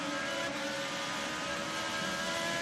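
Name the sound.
IndyCar engine throttle on track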